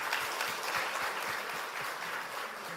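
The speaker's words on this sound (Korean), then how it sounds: "예, 박수로 환영하겠습니다." A church congregation claps to welcome a new member during a Sunday service, a soft, steady wash of applause from across the room that holds evenly for a few seconds.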